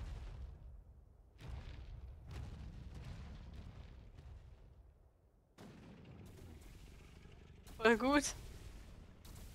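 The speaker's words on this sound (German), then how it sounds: "die treffen echt das Force Shield, ne? Mit den Kanonenkugeln." Cannonballs strike a force shield in the video game Ark Survival Evolved, heard as dull, muffled booms spread through the passage, with a sharper crackling burst near the end while people talk over it.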